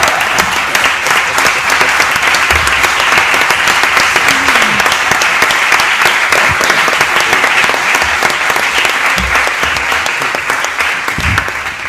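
Steady, dense applause from a large audience at a Spanish book presentation, loud and continuous for the whole stretch, easing slightly toward the end.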